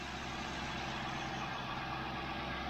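A Lincoln Town Car engine idles with a steady, even hum and low rumble, close and continuous, with no voices over it.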